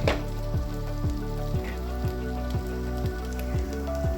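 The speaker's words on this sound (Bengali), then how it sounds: "চালটাকে হালকা ভাজা হতে দেবো" A continuous close sizzle comes from rice lightly frying in a pan for dhaba-style veg pulao. Rhythmic stirring strokes scrape through it roughly every half second, and no voices are heard.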